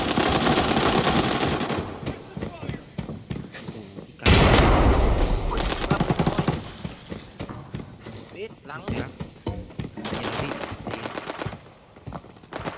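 Gunfire in a shooting video game: rapid bursts and single shots crackle at varying loudness, with a heavy blast around the middle, while a player talks throughout.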